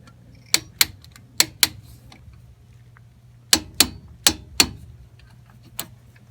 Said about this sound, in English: We're going to torque these bolts down to 75 foot-pounds each